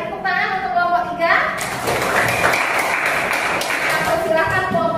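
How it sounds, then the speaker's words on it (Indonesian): A classroom of Grade 7 students claps for a group for a few seconds. The applause is preceded and followed by children's voices and talk, and the dense clapping fades as speech resumes. "sekali lagi tepuk tangan untuk kelompok 3"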